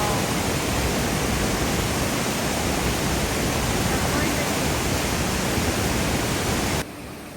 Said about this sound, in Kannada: ಈ ವಾಟರ್ಫಾಲ್ ಇರೋದು ಸುಮಾರು 110 ಮೀಟರ್ಸ್ ಹೈಟ್